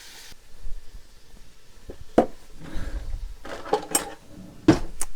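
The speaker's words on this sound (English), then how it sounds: "cut up my dried jalapenos and my tomatoes and my cilantro" Kitchen knife cutting dried jalapenos, tomatoes and cilantro for a spicy potato casserole, a few sharp clacks of blade on board and clinks of utensils scattered among softer rustling handling sounds, close up.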